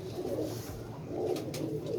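Pigeons cooing softly outdoors in rough weather, a low, faint repeated coo over a breezy background, with no talk.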